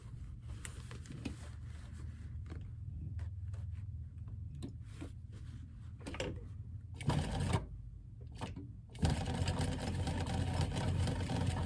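A sewing machine runs while stitching a gusset seam. Its close, rapid mechanical whir starts and stops in short bursts, then settles into longer steady runs.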